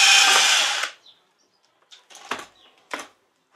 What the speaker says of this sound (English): Drilling holes in my new concrete floor.